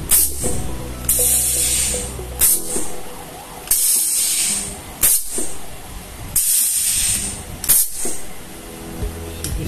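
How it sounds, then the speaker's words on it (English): Electroweld SP 40PR pneumatic air-operated press-type spot welder joining 2 mm steel components, with repeated loud bursts of air hiss and clunks from the press cycling roughly every one to two seconds, close and without speech. "So this is how it is welded."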